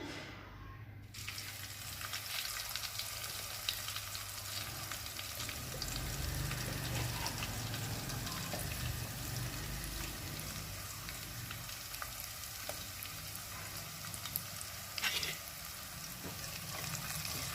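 Vegetable masala with red chili powder fries steadily in a pan while being stirred, a dense continuous sizzle with occasional scraping, close and even throughout, no voices.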